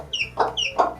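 A six-day-old chick cheeps in two close pairs of sharp, high peeps, loud and near, with no talking over it.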